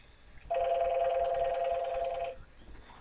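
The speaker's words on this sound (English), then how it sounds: "I'll just wait for this phone to stop ringing" A telephone rings in a room, one sustained electronic trill lasting about two seconds, fairly loud against quiet background.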